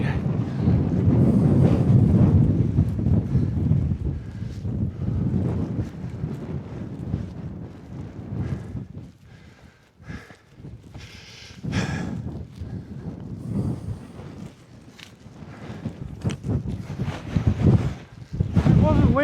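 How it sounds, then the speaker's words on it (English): Strong wind gusts across an exposed fell ridge on Bowscale Fell and batters the microphone with loud, rumbling buffeting. It eases briefly midway, then surges back, with no talking. "it's a tad windy"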